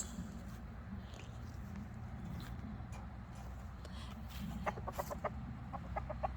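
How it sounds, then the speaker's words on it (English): Backyard coop chickens clucking softly at first, then a rapid run of sharp, louder clucks near the end over a low background hum. "my chickens are so excited to see me"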